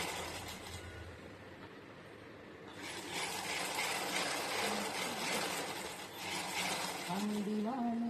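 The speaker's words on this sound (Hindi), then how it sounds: "इसके साथ मैंने सिलाई नहीं चलाई है तो मैं चला देती हूँ।" A sewing machine runs steadily while a lehenga blouse is stitched, its continuous mechanical whirring loud and close, starting about three seconds in and carrying on to the end, with a faint voice or music near the close.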